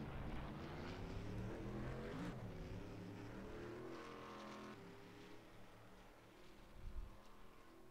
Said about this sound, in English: Julio Caligari in the 33 car out on the track right now